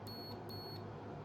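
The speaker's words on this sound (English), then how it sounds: "there's a beep" A multimeter gives two short, faint continuity-test beeps in quick succession, high and thin, while probing a Minelab metal detector circuit board.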